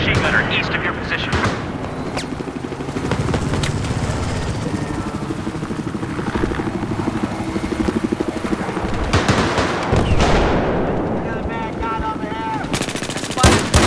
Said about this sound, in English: I have eyes on a hostile machine gunner east of your position